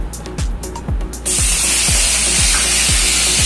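Curry leaves dropped into hot oil in a kadai sizzle in a sudden loud, steady hiss that starts partway through and continues, after a few softer clicks and a rhythmic low thumping underneath.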